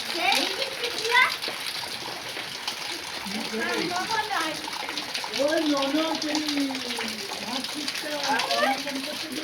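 Water poured and splashed in a household setting, with irregular close splashes and trickles running under frequent talking and children's voices throughout.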